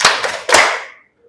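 A group claps the 'tepuk fokus' routine in a classroom teacher-training session: two bursts of sharp, loud hand claps close by, the second stronger, then quickly fading to silence.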